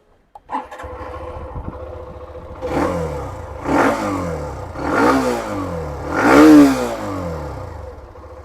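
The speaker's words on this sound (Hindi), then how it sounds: "मैं आपको दोनों बाइक का एग्जॉस्ट नोट सुनाता हूँ" A 2024 Hero Xtreme 125R motorcycle engine idles with a steady low throb, then is revved four times in succession, each rev rising and falling, the last one loudest.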